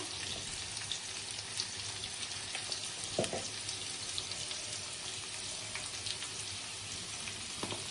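Spices sizzle steadily in hot oil with green chillies while cooking a papaya, potato and fish curry, a constant close frying hiss with occasional small clinks, no voices.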